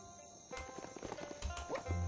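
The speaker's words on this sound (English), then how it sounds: "My horse is still there!" A horse's hooves clip-clop in the video game Biomutant, a quick irregular run of hoofbeats over game ambience and effects, close and moderately loud.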